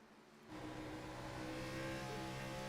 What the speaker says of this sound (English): You hear the revs jumping up as he comes up off the corner.